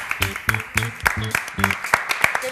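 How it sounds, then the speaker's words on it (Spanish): A studio audience on a Buenos Aires morning television show claps in a steady, rhythmic beat, sharp regular hits over a tonal musical or vocal background. "Fuerte el aplauso."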